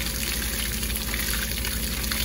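Water running from a garden hose outdoors, with hot water coming out at first, makes a steady, close, full-band rush that stays even throughout with no voices.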